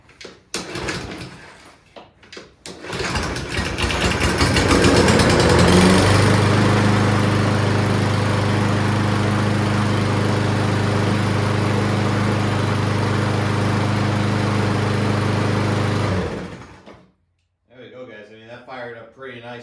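A lawn mower engine cranks in a cold garage at about 38 degrees, catches and settles into a loud, steady idle that runs alone for roughly ten seconds before cutting off, followed by a voice talking.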